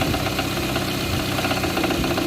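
A car engine with a knocking fault runs steadily at idle, giving a continuous, close, rapid rhythmic knock and mechanical clatter with no voices.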